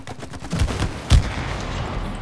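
Gunfire in the video game It Takes Two, a few loud sharp shots in quick succession with one heavier blast, heard alone against a low game backdrop.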